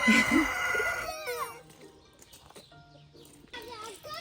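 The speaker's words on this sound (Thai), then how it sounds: "ไก่ตัวเนี้ยแหละทำฉันกลัว มันร้องเสียงดังมากเลย" A rooster crows loudly and close on a hillside farm in southern France, followed by quieter clucking and scattered farmyard sounds, with a voice chiming in near the end.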